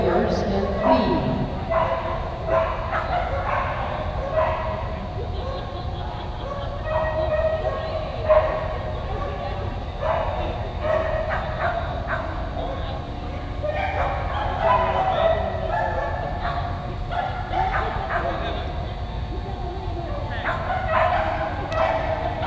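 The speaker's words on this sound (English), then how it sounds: "Up now by the Border Collie, this is Adrian Royavers and Fee." A Border Collie barks and yips repeatedly during an agility run at a competition, its excited barks carried over continuous commentary and crowd noise throughout.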